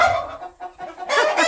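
Young chickens and a rooster on a small farm cluck and squawk close by in short bursts, a brief busy flurry of fowl calls with a loud burst near the end.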